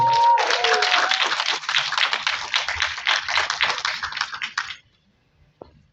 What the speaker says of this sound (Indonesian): Kita sambut dan berikan tepuk tangan yang paling berat untuk Bapak Sunil Soraya.